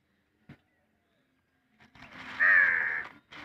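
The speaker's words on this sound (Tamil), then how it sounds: "உங்களுக்கு எவ்வளோ காக்கா உட்காந்துருக்குன்னு கரெக்டாக தெரியுங்க" At a home bird-feeding spot, a crow gives one loud, drawn-out harsh caw nearby, preceded by a few soft knocks and rustles, with another call starting at the end.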